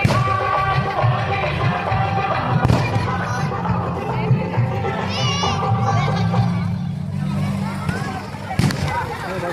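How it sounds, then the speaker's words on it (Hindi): Dense crowd noise at the Chhath Puja festival, a steady mix of many voices and children with occasional thumps and bangs, loud and continuous throughout. "तो ये देखिए कितनी ज़्यादा भीड़ है।"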